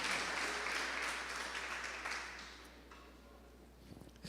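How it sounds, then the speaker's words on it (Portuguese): A church congregation applauds together, a dense, moderately loud wash of clapping that gradually thins and fades toward the end. "Bate palmas para Jesus."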